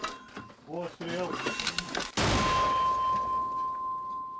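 A voice gives short commands, then one sharp, loud blast of a mortar firing, followed by a fading rumble and a lingering high ring.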